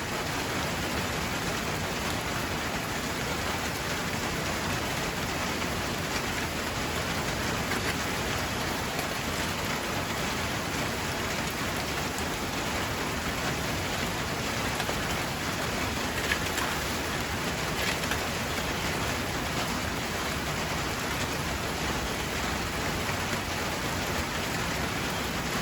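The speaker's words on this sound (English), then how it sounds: "it seems to be flowing pretty well now into the gutter and onto the other side" Drainage water flows steadily into a gutter outdoors, an even, continuous wash of running water, with no voices.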